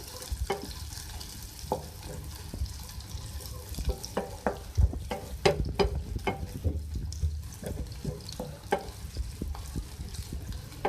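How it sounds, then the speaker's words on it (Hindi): Onions frying in oil in a pan while cooking chicken kaleji, with a steady low sizzle and repeated stirring clatters and scrapes throughout, close and moderately loud, no talking. "मैं इसमें प्याज डाल रही हूँ। प्याज को फ्राई कर लें"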